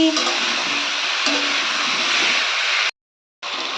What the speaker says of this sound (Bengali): আমি চাল কুমড়োগুলোকে একটু ভেজে নিচ্ছি